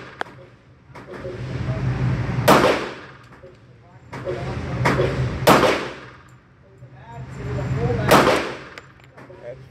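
Three loud pistol shots from a SAR USA K2 .45, spaced a few seconds apart, each a sharp crack with a ringing tail over steady background rumble and some faint voices.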